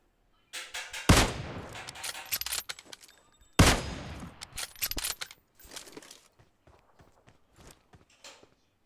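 Two sharp gunshot blasts from a video game ring out close and loud, each trailing off, with lighter clicks and footstep-like taps between and after them and no talk.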